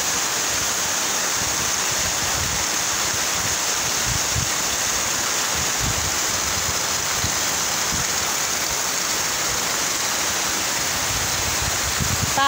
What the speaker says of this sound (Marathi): एवढा मुसळधार पाऊस आहे